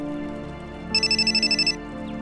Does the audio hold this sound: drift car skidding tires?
no